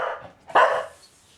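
One sharp, close bark from a small dog indoors, preceded by a brief whine, loud and alone.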